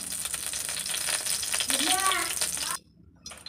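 Semolina frying in ghee in a pan gives a steady, close sizzle with light scraping and rattling as it is stirred, and a voice talks briefly over it before the sound cuts off near the end.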